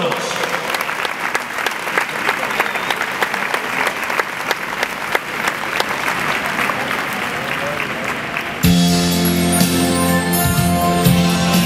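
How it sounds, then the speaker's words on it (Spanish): Studio audience applause on a Spanish television show, a loud, continuous wash of clapping that runs unbroken until it cuts to music near the end. "vamos a darle un aplauso como se merece"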